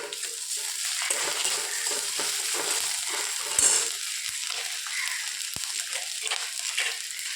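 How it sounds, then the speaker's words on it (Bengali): Ginger and cumin paste frying with onion and garlic in a pan, a loud steady sizzle with a brief scrape of stirring midway, no talk. "আদা ও জিরে বাটা দিয়ে দিলাম। সবগুলো একটু ভেজে নেব।"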